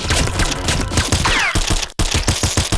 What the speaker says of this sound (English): you shoot the creatures that they spawn, and you shoot it in the face when it drops down